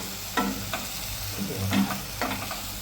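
Dill leaf bhaji (shepu) is stirred in a hot pan: a continuous close sizzle broken by several distinct spatula scrapes at uneven intervals.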